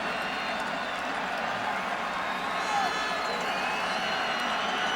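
A large crowd at a CFL football game between the Saskatchewan Roughriders and Edmonton Eskimos roars in a steady, dense wash of cheering and noise, with a commentator's voice over it.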